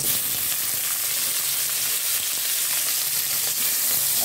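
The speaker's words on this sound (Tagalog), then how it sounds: "Gigisa na tayo ng sibuyas, bawang." Onion and garlic sautéing in a pan, a steady loud sizzle and crackle of frying that continues unbroken throughout, with no voices.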